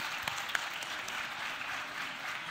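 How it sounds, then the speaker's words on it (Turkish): Steady applause from an audience at a women entrepreneurs' panel on gastronomy in Afyon, Turkey: dense, even clapping at moderate level with a couple of sharper claps standing out, no voices. "Daha kuvvetli bir alkış"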